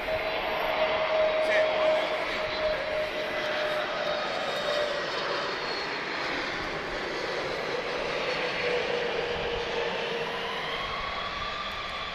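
A heavy jet aircraft at Lisbon Airport produces a sustained, loud engine roar with shifting whining tones as it passes at moderate distance, steady throughout with no voices heard.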